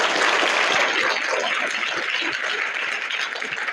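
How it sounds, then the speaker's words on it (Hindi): Sustained applause from a crowd of schoolchildren at a general knowledge quiz competition in an upper primary school, steady and fairly loud throughout, rewarding a correct answer. "तालियां हो जाए।"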